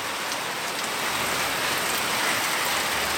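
Steady rain pouring down outdoors in a Iu Mien hillside village, a dense, even hiss of drops on surfaces filling the whole stretch with no voices.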